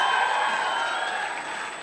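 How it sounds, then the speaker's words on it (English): An audience of awardees at a WTO fund launch ceremony applauding, dense sustained clapping from a crowd, fairly close and steady, slightly fading toward the end. "Stand up, stand up, stand up. Clap for yourselves."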